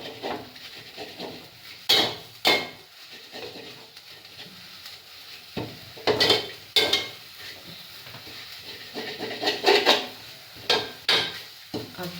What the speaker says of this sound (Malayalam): കൈ അങ്ങോട്ടും ഇങ്ങോട്ടും മാറ്റാതെ ഇളക്കി കൊടുക്കുക.